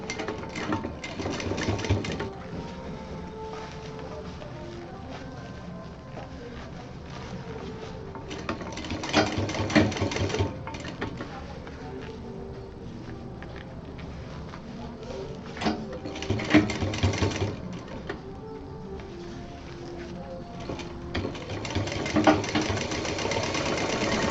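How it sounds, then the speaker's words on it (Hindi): A sewing machine runs steadily, stitching piping onto a fabric cosmetic box. The motor whirs and the needle chatters in a continuous rhythm, with a few brief swells in speed. It is close and alone, with no speech. "पूरी पाइपिंग पलट के अच्छे से सिल देनी है।"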